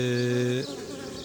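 Honeybees buzzing close by at a multi-storey hive in a steady drone that shifts into a rougher, busier hum of many insects.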